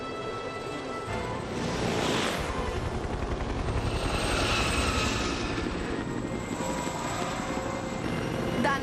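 Helicopter from an animated series flying close by, a loud continuous rotor chop with engine whine that swells and fades slightly, alone without speech.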